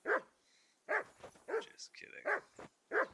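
Dog in a video game barking in short bursts, about five or six sharp barks spread over a few seconds, close and clear, with some game voices or sounds briefly mixed in between barks.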